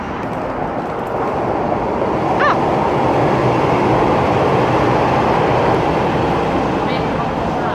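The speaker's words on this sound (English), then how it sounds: "Yes, it was metro." A metro train rushes past near a parking lot, a loud, steady roar that holds the same level for several seconds, with a couple of faint squeals on top.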